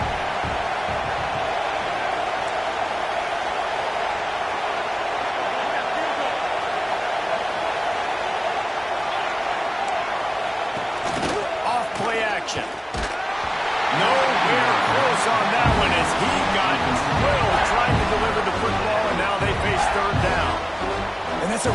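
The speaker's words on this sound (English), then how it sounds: "This crowd bringing the energy and noise early." Steady roar of a large stadium crowd at a Miami vs Clemson football game, swelling louder toward the end with cheers rising, while a voice talks over it.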